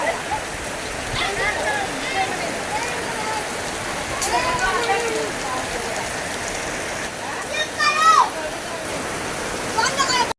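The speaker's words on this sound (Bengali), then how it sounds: "আমরা এখন হচ্ছে বৃষ্টিতে ভিজবো" Rain falls steadily outdoors during a family gathering at a house where fish and chicken are being cooked, making a continuous broad wash of hiss with voices and brief calls over it.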